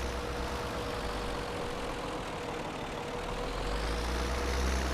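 In Farming Simulator 2017, a vintage tractor fitted with a front loader runs its engine with a constant low rumbling drone, steady and close with no voices.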